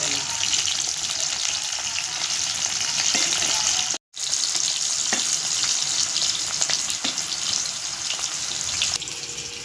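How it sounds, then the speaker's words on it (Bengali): Cauliflower pieces fry in plenty of hot oil, giving a loud, steady crackling sizzle that runs almost unbroken, with one brief silent gap near the middle. "বেশি তেলে কপি ভাজলে ভাজাটা খুব সুন্দর হয়।"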